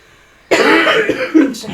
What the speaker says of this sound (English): She's coughing.